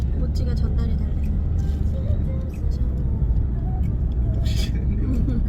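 A car driven by a father rolls along steadily, its low engine and road rumble filling the cabin, with faint higher rustles and clicks on top.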